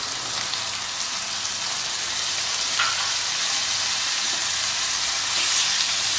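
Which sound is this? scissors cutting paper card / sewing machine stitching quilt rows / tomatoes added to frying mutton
tomatoes added to frying mutton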